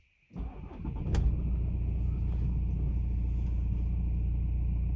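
BMW B47 diesel in a 2 Series 220d/218d cranks briefly after a moment of quiet, catches, and settles into a steady low rumbling idle that stays close and even to the end.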